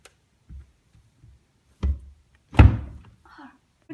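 A door is shoved shut by hand with a couple of dull thunks, the last one heavy and close, amid soft shuffling and a brief voice in the background.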